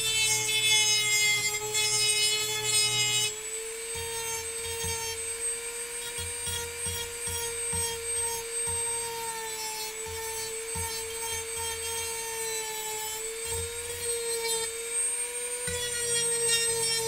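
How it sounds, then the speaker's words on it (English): A power sander works on wooden drawer parts in a home workshop, its motor giving a steady, continuous whine with a rougher grinding buzz underneath that shifts slightly as the tool moves. "So I'm just sanding down here from this side."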